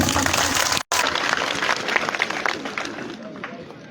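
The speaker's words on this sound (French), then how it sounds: "Applaudissez." Audience applauding at a school awareness day at a lycée in Koutiala, a dense roar of clapping that cuts out for a split second near the start, then continues steadily and tapers slightly.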